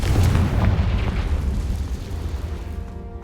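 A Confringo blasting spell explodes in Hogwarts Legacy with a loud booming burst, then a rumbling tail that slowly fades over a few seconds, with no talking.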